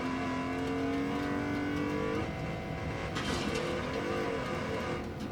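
A car engine revs continuously during a Wreckfest 2 demolition race. The whine climbs in pitch, drops at a gear change and climbs again, loud and close with no talk.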